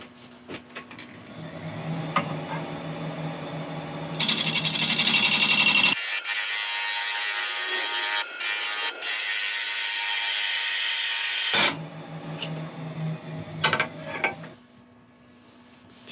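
A woodturning lathe spins a workpiece, a steady motor whine joined by a bright, loud rasping stretch of tool or abrasive contact in the middle, then easing back to the quieter hum before stopping.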